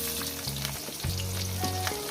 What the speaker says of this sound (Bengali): পেঁয়াজ কুচোটাকে দিয়ে মিনিমাম আমি দু থেকে তিন মিনিট এটাকে ভেজে নেব